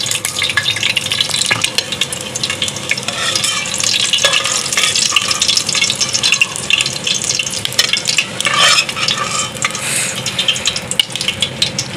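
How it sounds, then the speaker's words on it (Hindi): Eggs frying golden in hot oil in a pan, a dense continuous crackling sizzle close up with occasional scrape of a utensil against the pan, loud and unbroken. "अंडों को हम गोल्डन फ्राई करेंगे इस तरह से।"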